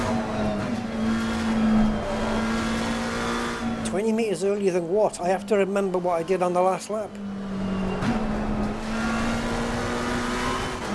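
Race car engine in the Assetto Corsa Competizione racing game drones steadily near and loud, with pitch shifts under braking and acceleration, while someone talks over it for several seconds in the middle.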